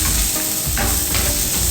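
Ginger and garlic sizzling in a small amount of hot oil, a steady loud hiss and crackle throughout with a couple of brief stirring scrapes.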